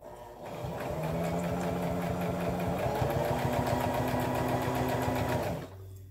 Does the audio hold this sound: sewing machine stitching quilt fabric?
yes